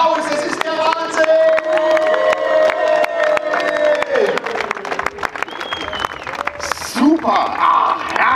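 A crowd at a live comedy show at a Bundeswehr open day in Koblenz claps, cheers and whoops loudly, with shouting voices mixed into the steady applause.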